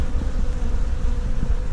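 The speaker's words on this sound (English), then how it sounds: "they are doing a good job being bees" Honeybees buzzing busily at a requeened hive, a dense continuous hum of many insects close by, with no talking.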